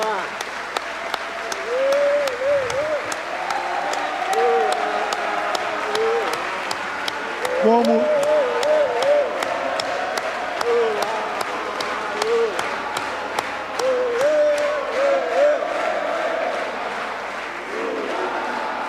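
Sustained applause from an audience at a ceremony honoring a mayor, steady through the whole stretch, with voices and some shouts mixed into the clapping.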